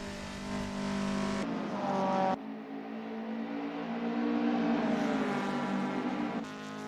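Race cars in a Simspeed Golf Cup sim racing game roar around the track, engines revving and shifting loudly with pitch sweeping up and down as they pass, the tone changing abruptly between camera cuts.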